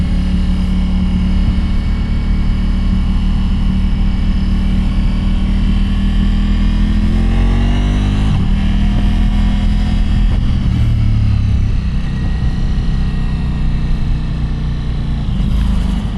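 Large trucks passing on a roadside, a loud sustained diesel engine rumble that swells and shifts in pitch as the heavy vehicles roll by close up, with steady road noise underneath.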